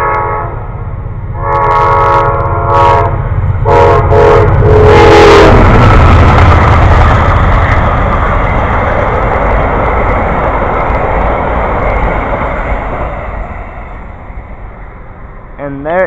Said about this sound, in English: And there it goes, Amtrak train to Silver Star.